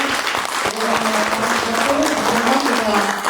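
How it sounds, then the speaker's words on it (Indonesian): An audience at a company event applauds to welcome the CEO, continuous clapping beneath a voice talking over it. "Kita sambut dengan tepuk tangan yang meriah Pak Hendy."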